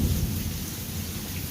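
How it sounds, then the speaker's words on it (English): Thunder rumbles low and steady under continuous heavy rain during a Texas storm, a dense, loud wash of noise with no voices. "I did say we were about to have thunder."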